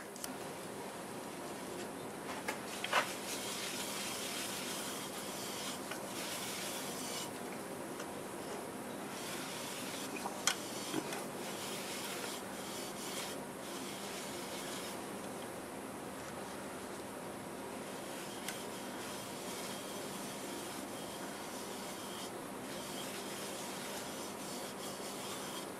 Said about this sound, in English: Let's go ahead and get some of this double carnauba wax on it.